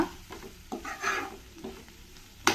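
Fenugreek leaves sizzle as they fry in a pan, with a spatula stirring and scraping in short bursts and a sharper clatter near the end.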